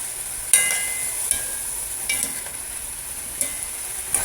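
A spatula scrapes and stirs potatoes, carrots and broccoli stems in a pan, giving periodic clacks over a soft, steady sizzle.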